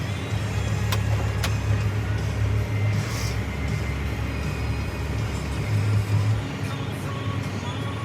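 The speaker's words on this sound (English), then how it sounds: "And then turn the PTO on. Then rev your RPMs up." A truck engine runs steadily with the PTO engaged, a loud, close, continuous drone that rises slightly as the revs come up, without any talk over it.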